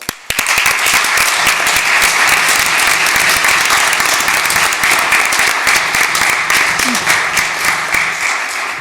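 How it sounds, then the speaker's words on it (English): Crowd gives a round of applause for a new Eagle Scout at an evening ceremony, loud, dense clapping that starts abruptly and holds steady for several seconds before easing slightly. "I'd like everyone to give a round of applause to our new Eagle Scout, Jack Daw."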